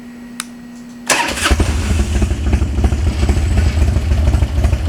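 A 2003 Harley-Davidson FXD Dyna Super Glide engine with 56,000 miles cranks and catches after a second of quiet, then settles into a loud, steady running rumble close by.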